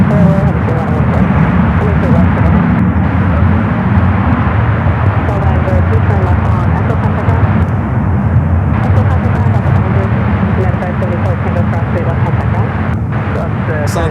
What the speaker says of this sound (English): You got that 100-year livery Dreamliner with United up next for arrival